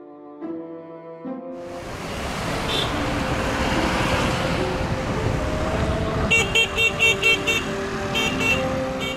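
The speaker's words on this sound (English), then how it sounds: "The idyll of the countryside had to give way to the noisy motor vehicles, and cyclists have to put full concentration on the traffic." Town traffic in Yangshuo with motor vehicles passing, a steady roadway roar, and a run of repeated short horn toots near the end.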